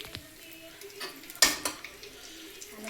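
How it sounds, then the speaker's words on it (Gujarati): Cumin, small cinnamon pieces and bay leaves frying in hot oil for a chicken dish, soft sizzling under clinks and scrapes of a spoon against the pan, with one sharp metallic knock in the middle. "અને થોડુંક ફ્રાય કરી દઈએ."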